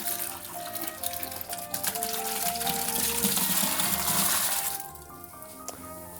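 Water pours from a 3 litre jug into a new tub for ginger beer making, a loud continuous gush and splash that swells and then drops to a thinner trickle near the end, with no talking.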